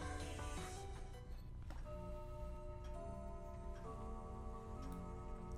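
A large clock in the game Umineko ticks steadily at midnight, its even beats sitting under a dense, sustained musical backdrop.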